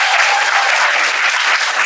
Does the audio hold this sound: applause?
yes